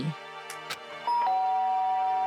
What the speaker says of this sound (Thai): ใครมากดกริ่งห้องฉันเนี่ย